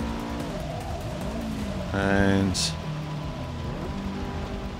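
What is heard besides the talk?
car racing through wet weather in Forza 6 video game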